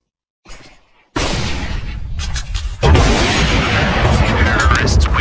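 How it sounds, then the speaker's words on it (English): A flashbang grenade thrown and going off in a shooter video game, heard as a sudden loud, harsh burst after a brief quiet start, then a second even louder blast that stays dense and roaring to the end. "I'm throwing a flashbang."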